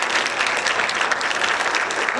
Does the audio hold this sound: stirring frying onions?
no